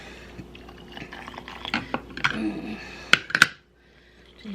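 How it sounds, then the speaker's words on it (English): Hot water poured into glass canning jars of chili beans for pressure canning, close splashing mixed with sharp glassy clinks, then quiet at the end. "adding hot water"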